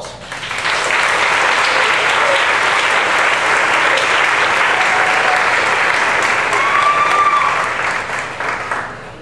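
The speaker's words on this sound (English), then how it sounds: "Let's once again give all of the Miss contestants a round of applause." An audience at a Preteen Miss and Miss awards ceremony in Montpelier claps for the Miss contestants, a loud, sustained round of applause that holds steady for several seconds before tapering off.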